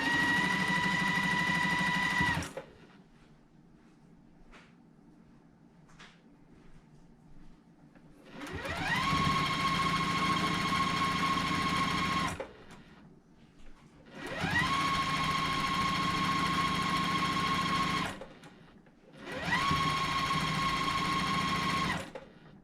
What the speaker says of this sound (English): I'm now going to sew that long green piece to each side of